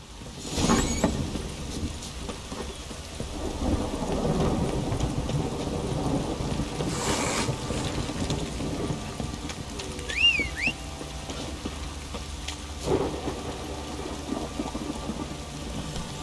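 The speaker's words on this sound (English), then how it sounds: "Don't stop raining, my arse will rot off. This downpour's a bastard." A heavy downpour with rolling thunder in The Witcher 3. Dense rain hiss runs throughout, with low rumbling thunder swelling at intervals and a brief high cry partway through.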